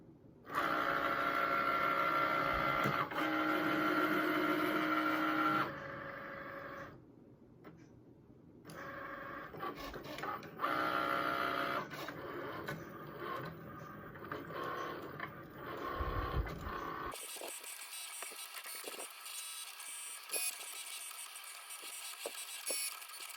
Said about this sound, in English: the Cricut is ready to begin printing the vinyl. So we are going to thread it into the machine. It'll do some calibration after I hit the go button.